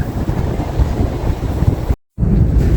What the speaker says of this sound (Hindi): यहाँ बहुत ठंडी हवा चल रही है